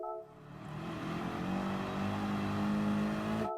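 A race car in Gran Turismo Sport, held in second gear on the Nürburgring Nordschleife, accelerates out of a corner. The engine note climbs steadily in pitch and loudness over a few seconds, then cuts off abruptly.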